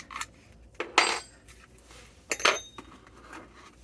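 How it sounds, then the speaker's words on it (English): Small metal parts of a SAR Firearms CM9 pistol clicking as the trigger bar guide pushes past the magazine release, a few sharp close metallic clicks and scrapes in a quiet room without speech. "as you pull it out, you'll actually hear the trigger bar guide push past"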